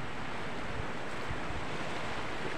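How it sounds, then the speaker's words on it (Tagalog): A steady wash of ocean surf and wind noise roars continuously, even and broad, with no distinct wave breaks or voices. "hindi naman kalakasan ng alon"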